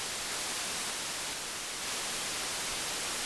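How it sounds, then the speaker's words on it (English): Steady broadband hiss of analog noise from a Eurorack synthesizer module, flat and continuous for the whole stretch with no talk. "That's actually analog noise from a Eurorack module."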